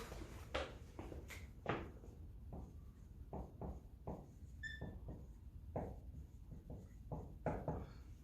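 Marker writing on a board during a math lesson: a string of scratchy strokes and taps, some quick and some drawn out, fairly faint and close, with no talk.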